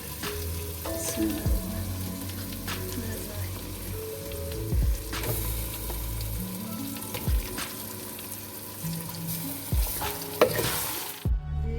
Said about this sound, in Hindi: अब थोड़ी सी चूल्हे की आँच तेज़ करके तो अच्छी तरह बनाई कर लेते हैं।